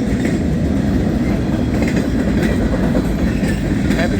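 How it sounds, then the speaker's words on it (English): CSX freight train of empty cars rolling past at Point of Rocks, with loud, steady wheel rumble and a continuous clickety-clack of wheels over rail joints close by, no voices. "Train wheels."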